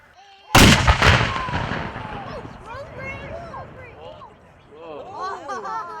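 A single loud Civil War reenactment artillery blast at an Oregon fort, a sharp boom followed by a long fading rumble, with people talking and birds chirping nearby afterward.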